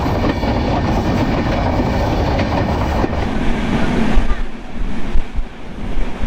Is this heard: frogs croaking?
no